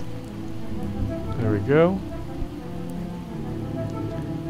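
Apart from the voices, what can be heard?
rain in video game Project Zomboid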